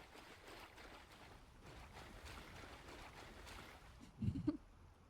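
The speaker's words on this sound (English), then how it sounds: "I like the splashing noises." A brief burst of water splashing close by in the Skyrim video game, rising near the end over a soft ambient wash of wind and waves.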